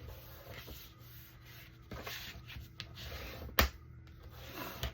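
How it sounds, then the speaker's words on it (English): A paper file folder is folded in half and creased, giving soft rubbing and sliding paper sounds with a sharper crackle near the middle, close and quiet with no talking. "So just fold it in half like so."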